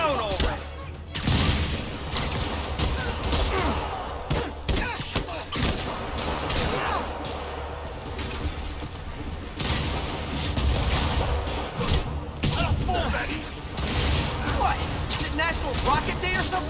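Rockets fired at Spider-Man by Fisk during a Marvel's Spider-Man Remastered boss battle, a rapid barrage of booms, thuds and crashing blasts spread throughout, mixed with game score and frequent character dialogue.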